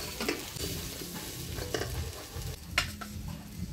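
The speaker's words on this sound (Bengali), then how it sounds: "আলু ফুলকপিটা ঢাকা দিয়ে দিয়ে ভালো করে ভাজে নিলাম" Potato and cauliflower fry in a pan for a Bengali vegetarian curry, a steady close sizzle broken by a few scraping stirs of the spatula, with no talking.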